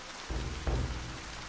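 Steady rain falling as a sound effect in a dramatic Japanese reading, a dense continuous hiss with low rumbling surges midway, heard alone without any voice.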